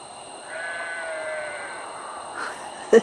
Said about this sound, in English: Is that Ed's goat?